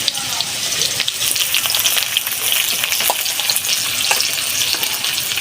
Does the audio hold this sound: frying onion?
yes